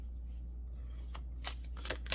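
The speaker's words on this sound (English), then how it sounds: "Oh, these cards are massive to shuffle." Large oracle cards being shuffled by hand, with soft riffling rustles and several sharper flicks of card stock toward the end, close and fairly quiet over a low steady hum.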